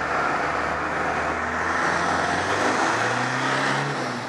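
A private car passes close by a cyclist on an urban road, its engine and tyre roar swelling as a steady, loud, near rush of traffic noise that holds for several seconds with no talk.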